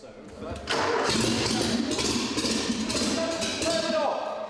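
A log splitter engine cranks and catches, then roars into a loud, steady run that holds for several seconds before easing slightly, with voices talking over it.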